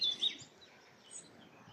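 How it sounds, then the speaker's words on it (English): Woodland birds sing faintly at a distance, with a couple of sharp chirps at the start and softer twittering fading underneath. "Yes, woodland birds everywhere."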